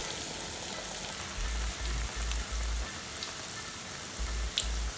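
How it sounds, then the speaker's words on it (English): Plantain fritter batter frying in hot oil for Ghanaian kaaklo, a steady soft sizzle with a low bubbling churn that swells in short bursts, heard alone without any voices. "So you have to fry it till it becomes golden brown."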